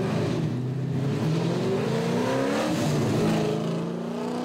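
Formula Drift cars at Houston in 2005, a Pontiac GTO and a Falcon Tires-sponsored Mazda RX-7 battling side by side, give a loud continuous engine roar whose pitch climbs and wavers as they accelerate and slide.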